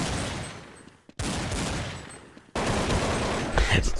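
Rapid bursts of gunfire in a Counter-Strike match on de_inferno, Desert Eagle and AK rifle shots, loud and dense volleys broken by a brief pause, then a heavier sustained barrage near the end.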